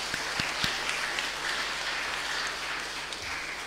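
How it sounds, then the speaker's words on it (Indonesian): A church congregation at a Sunday service claps in a steady wash of applause, with a few sharper nearby claps standing out at the start before the sound settles evenly. "Saudara, kita kasih aplaus dan dukungan kepada mereka."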